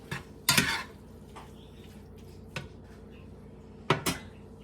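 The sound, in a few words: cooking meat in a pan for egg roll in a bowl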